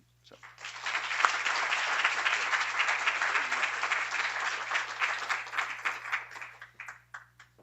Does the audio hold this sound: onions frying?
no